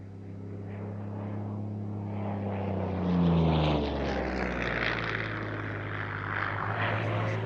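A Yak fighter's propeller engine drones overhead, a loud, steady piston roar whose pitch slides downward as the aircraft passes, then continues as a sustained rumble.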